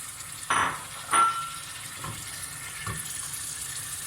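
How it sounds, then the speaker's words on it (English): Small pieces of lamb drop into a pot of browned onions for a Sindhi biryani, with two sharp bursts of sizzle as the meat lands, then a softer, low hiss with a few faint stirring knocks. "I'm just adding the meat now"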